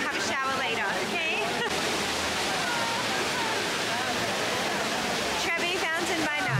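Water at the Trevi Fountain in Rome splashes and rushes in a steady, loud broadband wash, with crowd chatter and voices mixed through it.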